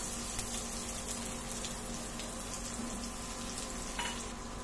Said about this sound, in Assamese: এয়া মই পিঁয়াজখিনি অলপ ভাজি লওঁ।